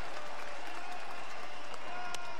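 A baseball crowd of over 17,000 stands and cheers with applause, a loud, continuous roar of clapping and shouting from a packed stadium.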